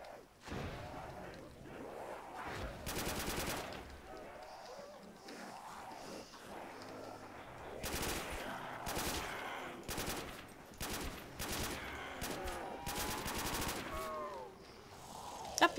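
Gunfire against zombies in Call of Duty: World at War, with short bursts and single shots scattered irregularly among game sounds and a player talking over the action.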